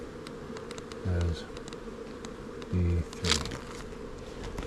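Honey bees buzz steadily around opened hives during an inspection at ranch bee huts, a close, continuous drone with a few louder humming bursts and a brief spoken word over it.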